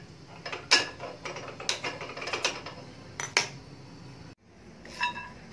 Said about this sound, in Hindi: मखानों को हम धीमी आंच पर भून लेंगे।